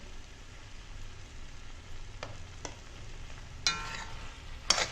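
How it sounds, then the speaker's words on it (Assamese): Chicken is fried without oil in a covered pan, giving a quiet, continuous sizzle broken by a few sharp scrapes of stirring. "মিক্স নোহোৱালৈকে মই এইখিনি ঢাকন দি আকৌ ভাজি থাকিম।"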